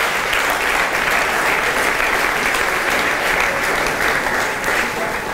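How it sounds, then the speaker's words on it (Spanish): Steady, sustained applause from an audience at a church gathering fills the whole stretch, dense and even with no voices over it. "Se merece un aplauso también"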